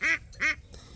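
Two loud, close duck quacks in quick succession, each a short nasal burst, followed by a fainter third call and quiet background.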